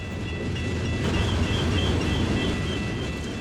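A freight train rolls by on Cajon Pass, a loud, continuous rumble and rail roar with a faint high metallic whine, steady throughout and close by, with no talking.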